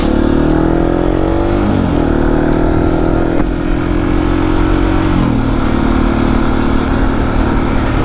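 A motorcycle engine pulls away in first gear, holding a loud, close, steady drone that steps down in pitch at a couple of points as it rolls along without talk.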